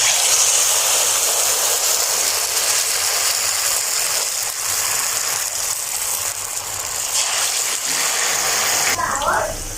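Pinwheel samosas dropped one by one into hot ghee sizzle in a loud, continuous hiss and crackle close up, with a brief voice near the end.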